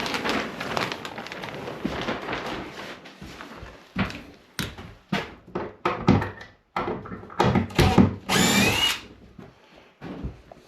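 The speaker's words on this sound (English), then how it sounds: "we're going to use 3 3/4 inch screws to screw that board on" A power drill drives 3 3/4 inch screws into a board on a tiny house stairway wall, whirring in repeated short bursts with pauses and thunks between, close and fairly loud, ending in one sharper high-pitched run.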